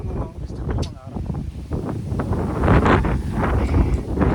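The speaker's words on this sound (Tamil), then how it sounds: "இப்போ இந்த காற்று அடிக்கும் போது எவ்வளோ ஒரு ஆனந்தமாக இருக்குது தெரியுமா" Wind gusting across an exposed hilltop near a hill temple, rumbling buffeting against the microphone that grows stronger toward the end, with people talking over it.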